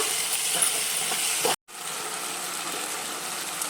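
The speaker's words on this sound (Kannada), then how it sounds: "ಎರಡು ನಿಮಿಷ ಚೆನ್ನಾಗಿ ಫ್ರೈ ಮಾಡ್ಕೊಳ್ಳೋಣ" Chopped onion frying with ginger-garlic paste in a pan for paneer keema, a loud, close, continuous sizzle with stirring scrapes, cut by a brief gap of silence before the hiss resumes.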